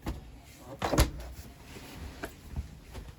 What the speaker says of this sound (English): you just got to push that up and then you can open up the door